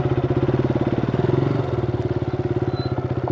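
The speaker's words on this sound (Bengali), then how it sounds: "বাইক স্টার্টও দিয়ে দিয়েছি।" A motorcycle engine idles close by after starting, on a mountain ride near Muktinath in Nepal, with a steady rapid low-pitched putter and a slight dip in pitch midway, loud and alone.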